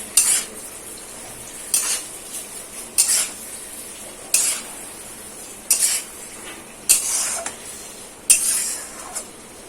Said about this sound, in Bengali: দিয়ে দিচ্ছি নুন, দিয়ে এটাকে ভালো করে মিক্স করবো।